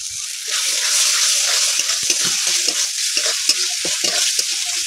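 Spice paste with a splash of water sautéing in a pan for a wax gourd curry, a steady loud sizzle layered with repeated scraping and stirring knocks from a spatula.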